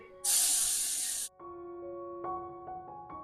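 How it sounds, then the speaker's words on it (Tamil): Adai batter ladled into a hot oiled kadai gives a sharp, loud sizzling hiss lasting about a second, cut off abruptly, then soft tonal background music plays on quietly. "இப்போ கடாயில் எண்ணெய் விட்டுருக்கேன், ஒரு கரண்டி சேர்த்துக்கலாம்"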